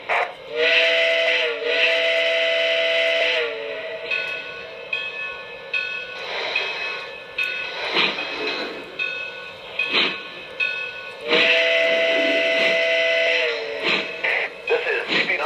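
Lionel Legacy Canadian Pacific 4-6-0 Ten Wheeler model steam locomotive: a multi-tone steam whistle blows in two long blasts, with chuffing, hissing steam and rumbling sounds between and after them, fairly loud with no talk.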